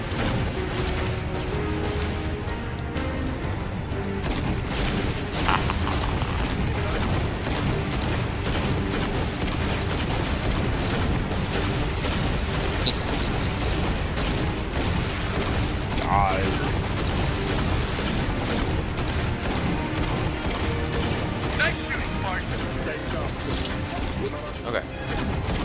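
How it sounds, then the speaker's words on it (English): Explosions and gunfire from the video game Halo Reach, fired in part from a mounted grenade launcher, rumble and crack in a dense, continuous barrage at steady loudness for the whole stretch. "Big explosion. Big success."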